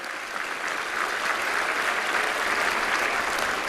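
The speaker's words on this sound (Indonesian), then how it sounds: "Kita tepuk tangan untuk Pak Joko." Audience applause filling a large formal hall at an Indonesian political event, honoring a farmers' representative; steady dense clapping throughout, loud and continuous with no talk.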